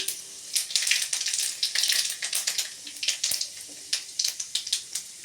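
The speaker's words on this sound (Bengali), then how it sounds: "আমি পাঁচ ফোড়ন দিলাম।" Panch phoron whole spices hit hot oil for a Bengali panchmishali vegetable dish, sizzling and spitting in bright, irregular pops and crackles that come close and fairly loud.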